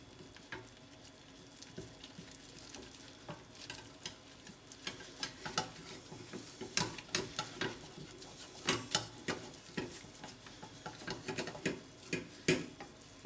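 A spoon stirs choux pastry dough, flour worked into hot water in a saucepan, making a steady run of quiet rhythmic scrapes and knocks that grow more pronounced toward the end, with no voices.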